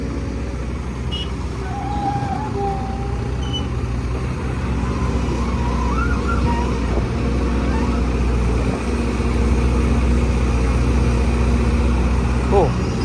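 A Sumitomo excavator with a special arm, working in H mode, scoops soil. Its engine drones steadily and fairly loud throughout, with faint higher whines and creaks from the hydraulics.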